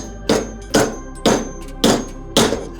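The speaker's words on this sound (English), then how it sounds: "I feel more confident hitting this one with a hammer." A hammer strikes an adjustable wrench fitted on a ski pole to remove its basket: five sharp metallic knocks at a steady pace, close and loud, with nothing else in between.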